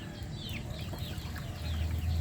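Chickens and young chicks clucking and peeping at a farm in hot weather, several high chirps over a steady low hum, near and moderate in level.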